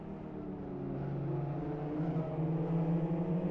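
Racing car engine in the Live for Speed video game, a faint steady mid-pitched drone whose revs shift slightly as it downshifts with rev matching.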